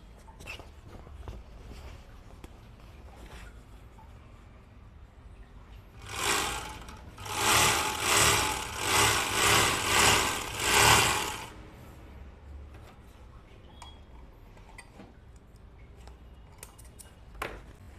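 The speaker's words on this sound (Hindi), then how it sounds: "मशीन प्रॉपर सिलाई कैसी देता है और उसकी आवाज़ कितनी कम हुई है" An overlock sewing machine runs across blue denim in a few quick rapid-stitching bursts lasting about five seconds, fairly quiet and close, between soft handling noises.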